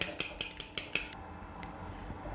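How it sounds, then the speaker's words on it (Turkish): A fork whisks egg in a bowl with a run of sharp, rhythmic clinks against the bowl's side, fairly close. The clinks then drop to a faint, steady scraping swish, with no talk. "Kasenin içinde yumurtayı çatalla çırpıyorum."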